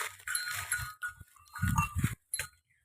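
Cattle bleat and low in a bamboo-fenced farm pen, several short calls in bursts with pauses between, fairly close, alongside a faint higher-pitched background.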